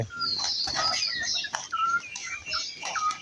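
Pigeons feed beside chickens, with repeated chirps and short calls scattered over soft background rustling, moderately close and fairly quiet.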